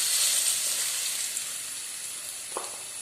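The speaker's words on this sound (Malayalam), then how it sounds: "ഈ പഴം നമുക്ക് ഇട്ട് കൊടുക്കാം." Chopped banana pieces fry in hot oil, giving a steady, soft, bright sizzle throughout with a couple of faint clicks near the end and no talking.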